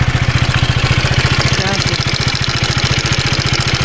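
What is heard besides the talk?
KTM Duke 250 motorcycle engine idling with ticking noise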